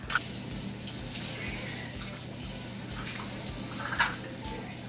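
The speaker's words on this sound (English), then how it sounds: "Now we're going to add 1 1/3 cup water." Steady splashing of 1 1/3 cups of water poured into a mixing bowl of creamy baking batter, a continuous soft gush with a brief clink near the end.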